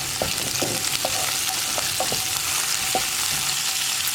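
Curry leaves fry and sizzle in a pan while being stirred for a Kerala green gram and elephant foot yam thoran, a steady bright hiss under sharp scraping strokes of the spoon at an uneven rhythm, close and without talk.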